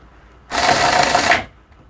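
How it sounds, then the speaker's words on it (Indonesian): A Kamolee electric ratchet tightens a bolt at maximum, a single loud, steady mechanical whir lasting about a second, starting and stopping abruptly against a quiet background. "kita akan kencangkan secara maksimal misalnya, ya, kencangkan maksimal."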